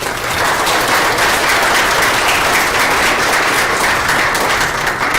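A theatre audience at a high school production of Alice's Adventures in Wonderland applauds loudly and steadily, a dense sustained wash of clapping with no talk.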